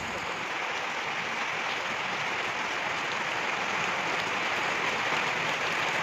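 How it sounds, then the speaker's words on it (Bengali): Heavier rain pours outdoors in a dense, unbroken hiss, steady and fairly quiet, a wide wash of drops with no voices over it. "তো দেখো বন্ধুরা বৃষ্টিটা কিন্তু আরও চলে এলো"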